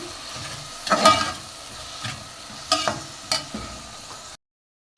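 Chopped tomatoes heat in a pan with a pinch of salt, giving a soft sizzle with a few scraping stirs of a utensil, fairly quiet, before the sound cuts to silence.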